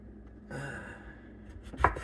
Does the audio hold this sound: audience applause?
no